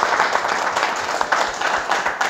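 Applause from an audience at a political party induction ceremony, a steady dense patter of clapping running loud throughout the short stretch with no voice over it.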